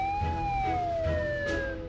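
A cartoon ambulance siren wails in a smooth, slowly falling tone, loud and close, with faint background noise beneath it.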